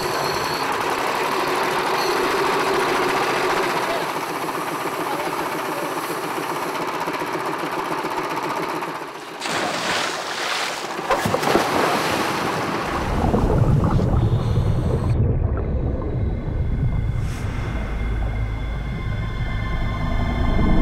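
An air compressor more than 50 years old feeds air through a hosepipe to a diver, giving a loud, continuous mechanical roar with rattling texture that shifts and thickens partway through, with no voices.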